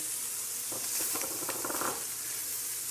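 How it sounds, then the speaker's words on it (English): Ground meat browning with onions in a pan for Italian Bolognese sauce gives a steady, close sizzle with light spattering crackles that pick up in the middle. "now that we got the meat starting to brown, we're going to go ahead and add some of the onions in."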